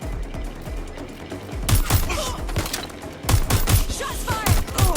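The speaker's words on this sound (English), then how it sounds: "Shots fired." Bursts of gunfire in the video game Watch Dogs: Legion, sharp close shots in quick clusters after a quieter opening, with thudding impacts and a fast, uneven rhythm.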